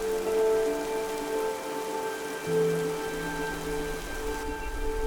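Steady rain pattering on a surface at a campsite in Norway, constant and fairly soft, with a faint electrical hum underneath.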